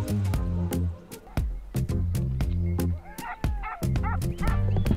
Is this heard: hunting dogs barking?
yes